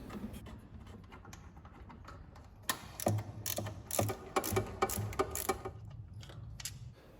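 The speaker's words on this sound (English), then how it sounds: "We have these new replacement M8 bolts for the thermostat housing. It uses a 12 mm socket." A ratchet fitted with a 12 mm socket tightens new M8 bolts on the thermostat housing of a 1999 Maruti Zen. Rapid close-up clicking comes in short bursts and grows louder and busier in the second half.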